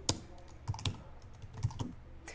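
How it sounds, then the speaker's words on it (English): Light typing on a computer keyboard, a handful of soft irregular key clicks, quiet and close, with faint background sound between the taps. "excuse my typing here"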